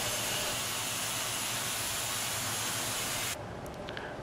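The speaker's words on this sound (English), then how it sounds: "any remaining excess powder is removed by low-pressure grit blasting" Low-pressure grit blasting strips excess powder off a 3D-printed part, using the same powder as grit, making a loud, steady rushing hiss that cuts out abruptly near the end, leaving quiet room noise.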